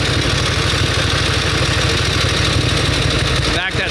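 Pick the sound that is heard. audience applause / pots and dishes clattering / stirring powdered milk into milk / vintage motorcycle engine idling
vintage motorcycle engine idling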